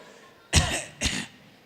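Two short, close coughs, a half-second apart, in a quiet room.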